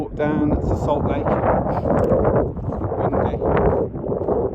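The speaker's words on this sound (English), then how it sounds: "Windy." Strong wind buffets the microphone beside Larnaca Salt Lake in Cyprus, a heavy, continuous low roar with gusty surges, under a voice talking close by.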